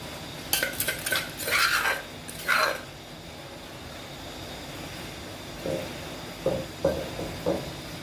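Bamboo shoot curry is stirred in a pot, with a cluster of scraping, clinking strokes near the start and a few softer, spaced scrapes later, close by with quiet gaps and no talk.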